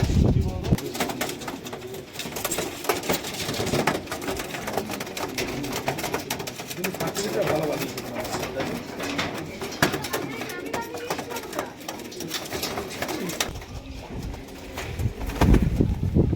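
Pigeons coo repeatedly near a black-eyed female racing pigeon, soft throaty calls mixed with wing and handling noise, under frequent close talking.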